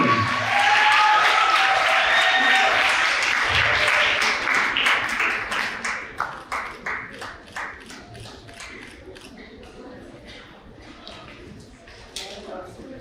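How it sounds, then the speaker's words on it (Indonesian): A crowd at an awarding and closing ceremony applauds for a judge, dense clapping that thins out into scattered, distinct individual claps before fading. "Mari kita beri tepuk tangan kepada Kak Oni."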